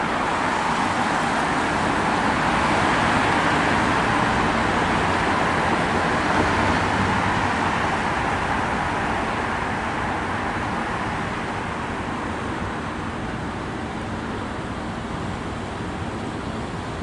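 A car pulls away through roadside traffic, its broad rumble and road noise holding steady before slowly easing off over several seconds, with no talk.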